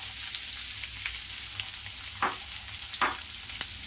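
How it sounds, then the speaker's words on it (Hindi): Onions sizzle in hot oil with whole spices for chicken do pyaza, a dense steady frying hiss with a few scraping stirs of the spoon standing out, close and alone without talk. "अब इसमें मैं प्याज डाल दूंगी"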